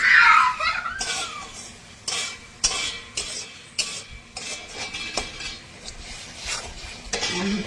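Fish head curry with chili powder and a little water is stirred in a pan, giving repeated loud metal scrapes and clinks of a spoon against the pan in an irregular rhythm.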